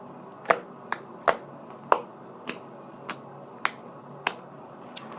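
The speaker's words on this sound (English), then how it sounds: "So it makes good poking noises." Fluffy blue glitter glue slime poked repeatedly by a finger, giving about ten sharp, wet popping clicks at a fairly even rhythm, close and clear over near silence.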